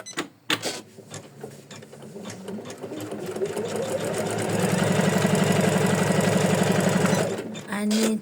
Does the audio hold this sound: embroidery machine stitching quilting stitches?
yes